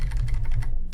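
Rapid, close clicking of keys on a computer keyboard during work in an IBM i editor, a dense run of strokes over a low steady hum with no speech.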